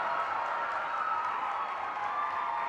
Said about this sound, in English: Honestly, round of applause.